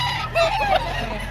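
Chickens at a busy poultry market in Lipa, Batangas, with a few short clucking calls rising over a steady background din of the crowded market floor.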